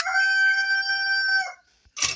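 A rooster gives one loud, close crow, a sustained call lasting about a second and a half, followed by a short pause and a brief burst of noise.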